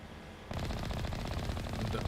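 Rapid automatic gunfire in the video game Mass Effect breaks out after a brief quiet start, a dense continuous rattle of shots close and loud.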